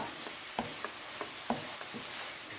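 Mutton masala for a Punjabi-style curry sizzles softly in a pan on the stove, broken by a handful of sharp scraping taps from a stirring utensil at uneven intervals, with no voices present.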